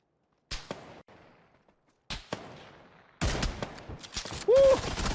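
Several gunshots in the battle royale game PUBG, isolated sharp cracks with short decaying tails separated by silence, then a denser, noisier stretch of firing and action toward the end.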